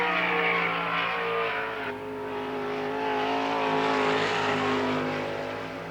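Sprint car engine screaming around Lernerville Speedway at full throttle, a loud sustained high-revving roar that swells and eases slightly as the car passes.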